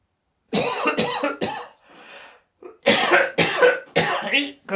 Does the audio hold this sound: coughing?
yes